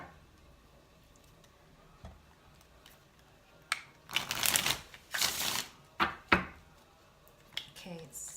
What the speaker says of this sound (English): I want to get some angel cards for you and some Jesus cards